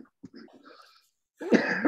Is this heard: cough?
yes